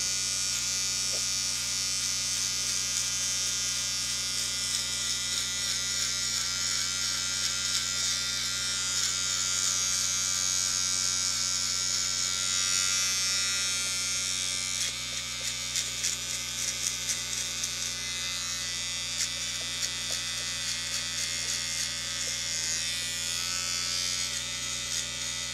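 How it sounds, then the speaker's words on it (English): Electric clippers shave a Schipperke puppy's hair around the base of the tail, giving a close, steady, high-pitched buzz that runs without a break, with small changes in tone as the blades move through the fur. "So we're going to start shaving the hair around the base of the tail on this baby."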